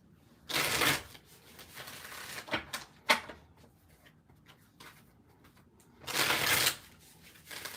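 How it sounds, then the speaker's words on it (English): Tarot cards shuffled by hand, two longer riffling bursts at the start and end with a few short flicks and taps between, close and fairly quiet. "Let me shuffle."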